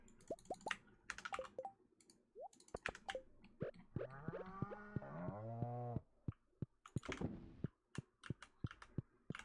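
A cow moos in the Stardew Valley farming game, a long, rising and falling call with strong harmonics near the middle, set among short clicks and taps of keyboard typing.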